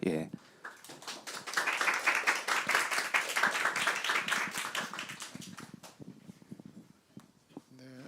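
Applause from a church congregation welcoming a missionary at a Sunday service, clapping rising after a quiet start, holding steady for several seconds, then fading to scattered claps; a voice speaks near the end.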